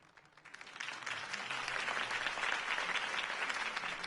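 Crowd applause in the Batman Telltale video game swells quickly from a quiet start and holds steady, a dense wash of many hands clapping at once.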